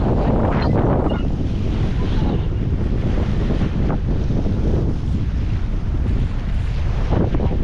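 Loud wind buffeting the microphone over rolling sea waves at a fishing area in Jeddah, Saudi Arabia, a constant roaring wash with no voices.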